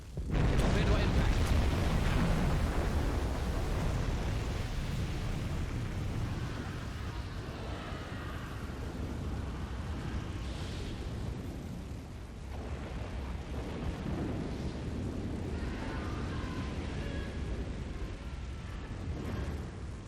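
A torpedo striking a ship in the submarine game Silent Hunter 5 during the Battle of the Atlantic: a loud, sustained low rumbling blast that rolls on for many seconds with crackling bursts.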